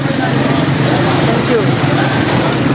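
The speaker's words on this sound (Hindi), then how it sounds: "ये बाइकें, गाड़ियाँ, पी पाँ पूँ, ट्रैफिक जैम, ये सब चलता रहता है" Dense street traffic in a congested Rawalpindi street food area makes a loud, constant roar of engines and motorbikes, an unbroken wash of noise with a voice talking over it.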